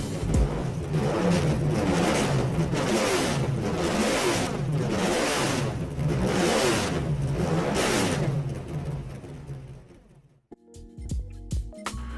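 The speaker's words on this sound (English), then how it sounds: "It's a 6 litre V12 and what a racket it makes, just listen to this." A Mercedes CLK LM with a 6 litre V12 revs loudly in a racing video game, a rasping engine note rising and falling in repeated surges for about ten seconds before it cuts out and brief game interface tones follow.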